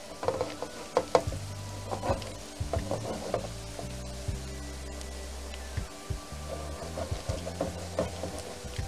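Shrimp and garlic frying in a pan, a soft sizzle close up under clinks and scrapes of stirring, with low hums and scattered knocks; no one speaks.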